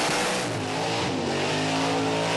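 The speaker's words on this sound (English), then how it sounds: "Gives it a big rev too" A blown, injected big-block engine in an HQ burnout car revs hard and loud, with a sustained roar and rising harmonic tones that hold steady throughout.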